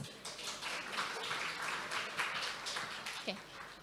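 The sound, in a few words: applause for the panelists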